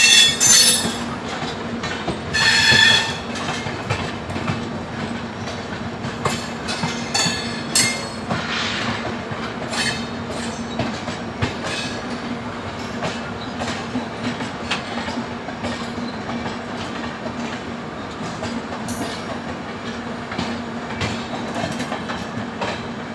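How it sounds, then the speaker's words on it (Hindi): The Kaifiyat Express passenger train from Azamgarh to Delhi, hauled by a WAP 7 electric locomotive, rolls past outside Ghaziabad with a loud steady roar of wheels, clattering rail joints and squealing wheels, opening with a horn-like blast. "आजमगढ़ से चलकर दिल्ली जाने वाली कैफियत एक्सप्रेस आ रही है सामने से।"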